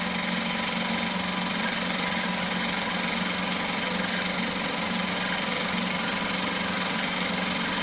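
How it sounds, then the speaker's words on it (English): Three small Meccano-style model engines run together, giving a steady, continuous mechanical drone with a constant hum and no pauses. "So there's all three Meccano style engines going."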